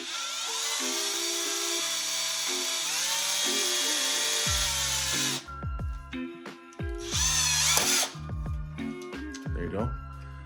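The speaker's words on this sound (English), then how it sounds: "You're gonna need your 1/4-inch drill bit again" Power drill boring straight through an existing pilot hole with a 1/4-inch bit during a GPStar Neutrona Wand kit installation, whining steadily then stopping and restarting in short bursts, close and fairly loud, with a voice talking over it.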